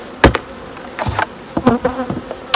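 A cluster of honeybees hums at a beehive in a new apiary, with a drone queen colony nearby. The buzzing is close and steady, broken by several sharp knocks and clatters from handling the hive.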